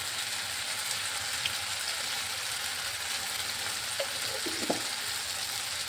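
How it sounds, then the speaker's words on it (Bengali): Ghee and garam masala being stirred into a frying flour (maida) dish in a pan: a constant bright sizzle with a few soft spoon scrapes and knocks near the end, no voices. "এই যে এবার ভালোভাবে গরম মশলা আর ঘিটা মিশিয়ে নিলেই হয়ে গেল।"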